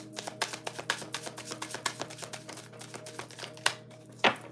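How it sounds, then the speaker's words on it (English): Tarot cards being shuffled in quick, crisp riffling bursts, close and fairly faint, with a short sharper snap near the end and no talking. "And last shuffle."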